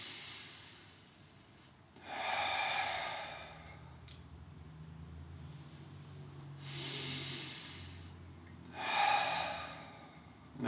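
Slow, deep breaths during a sun salutation yoga sequence: three long, airy inhale and exhale swells, each lasting a second or more, sit close over a low background hum.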